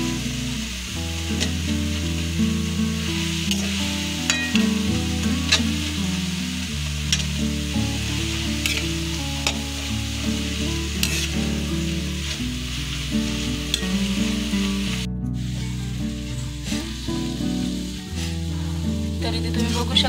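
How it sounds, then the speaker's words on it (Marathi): Peanut powder being stirred into fenugreek leaves sizzling in a pan, a steady close frying hiss with scraping stir strokes, with music playing throughout. "हे छान असं आता मिक्स करून घ्यायचं।"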